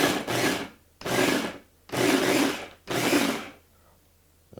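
A Ninja blender whirs through salsa in four loud pulses of about a second each, separated by short pauses, close and harsh with a steady hum underneath.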